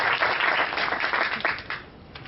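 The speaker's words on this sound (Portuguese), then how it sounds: "a quem eu peço uma salva de palmas aqui" An audience in a bookstore applauds the speaker at a ufology lecture, with dense, close clapping that holds steady and then tapers off near the end.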